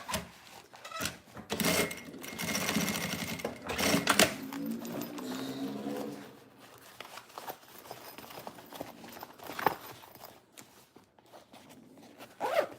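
A sewing machine stitches a small fabric flower in quick, rattling bursts of varying length, with short pauses and handling noises between runs.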